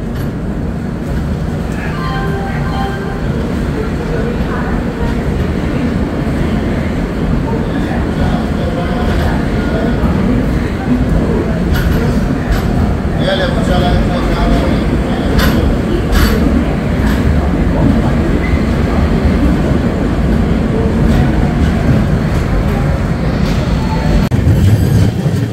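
The 12664 Howrah SF Express in India rolls along the rails at night, heard from inside a 2AC coach as a loud, continuous rumble and rattle of wheels and carriage with faint clicks throughout.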